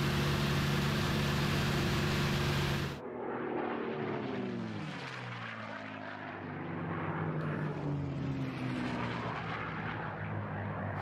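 A white P-51D Mustang air racer, the Bardahl Special, roars past at the Reno air races, its loud propeller-engine drone sweeping down in pitch as it passes and then fading to a steady distant rumble.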